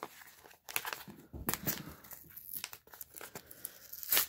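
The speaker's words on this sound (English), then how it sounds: "we're just gonna start ripping some envelopes" Paper mail envelopes are torn open by hand close up, with sharp ripping bursts and crinkling paper rustles in irregular spurts separated by short quiet gaps.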